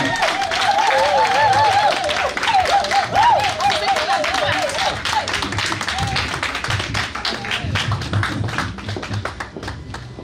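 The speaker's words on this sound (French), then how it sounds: "On va se lever pour lui faire une petite ovation." An audience at a gala evening rises and applauds in a standing ovation, dense steady clapping filling the room over loud music with a melodic line, fading slightly toward the end.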